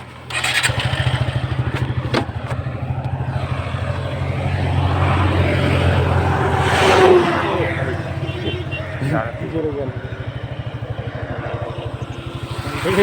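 A motorcycle rides along Kharibari Road in Rajarhat New Town, Kolkata, its engine a steady loud drone that swells midway, with voices talking over it.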